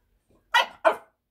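A French bulldog puppy lets out two short, sharp barks in quick succession, close and loud, with silence around them.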